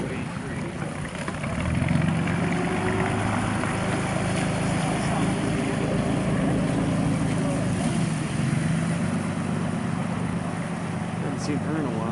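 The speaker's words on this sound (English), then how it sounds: "Very quiet engine." A 1937 Ditchburn 20-foot antique boat's Buchanan V8 engine idles quietly with a low, steady hum and rumble at a show, while people talk over it.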